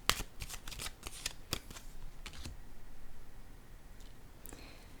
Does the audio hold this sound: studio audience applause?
no